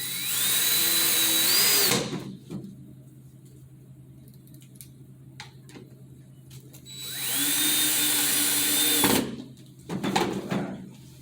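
A power drill drives screws into a cable mount for an internet and TV line. Two loud, close bursts ramp up to a steady whine and stop abruptly, with quieter handling clicks between them.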